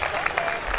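A short burst of clapping from a crowd, dense and steady, with some voices mixed in.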